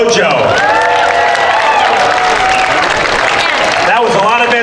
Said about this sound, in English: how about another round of applause for San Francisco Taiko Dojo?